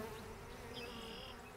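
Honey bees buzzing at an opened hive during a frame inspection, a faint steady hum of many bees with a brief higher whine of one flying near, no talk.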